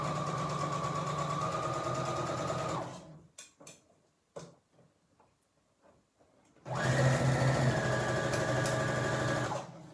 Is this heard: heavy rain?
no